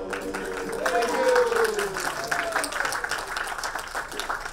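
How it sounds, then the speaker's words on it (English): Audience applause for speaker Scott Friedman at a talk, a sustained wash of clapping at steady strength for several seconds, with a faint tonal sound running beneath it. "Once again, round of applause, Scott Friedman."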